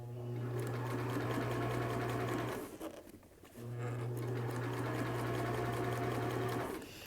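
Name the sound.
sewing machine stitching a cap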